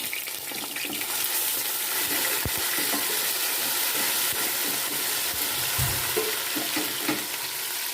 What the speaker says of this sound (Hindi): अब इसमें हम लहसुन अदरक हरी मिर्ची कुटी वो डाल लेंगे और इसको भी हम फ्राई कर लेंगे।